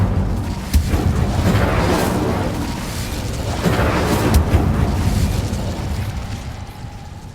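Incendio fire spell cast in Hogwarts Legacy, heard as a loud, rumbling burst of flame with booming surges that swell and roll on for several seconds, no talking over it.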